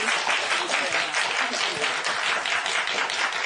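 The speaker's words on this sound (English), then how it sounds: "Please give a round of applause" Studio audience on a morning television talk show breaks into applause after an author interview, a continuous, fairly loud patter of many hands.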